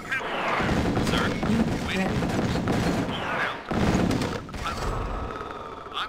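Rapid gunfire and explosions fill a real-time strategy game on the Forest Fires map, dense bursts and booms layered over game voice announcements and excited player chatter.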